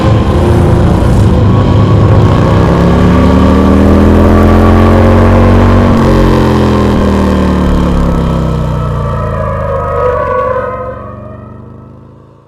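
A motorcycle engine revs loudly up close and then pulls away, the droning pitch rising and falling before the sound fades out at the end, with no talk over it.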